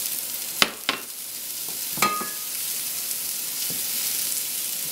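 Bacon fat sizzles softly in a pan over low heat while Chicken Marsala is cooked, a steady faint frying hiss broken by a few sharp clicks and taps of a utensil against the pan.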